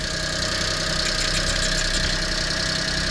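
The engine of a 1999 Mitsubishi MiniCab 4x4 truck idles steadily close by, with a faint rapid valve ticking running through the drone.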